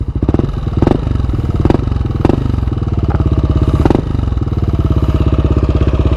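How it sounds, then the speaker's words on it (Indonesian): A Yamaha Aerox 155 VVA scooter engine running nearby, a loud, steady, smooth idle with a rhythmic pulse and a few brief throttle blips, heard alone without speech. "kalau kalian pengen tahu suara Vario di Aerox tuh kayak gimana, kayak begini kurang lebih suaranya."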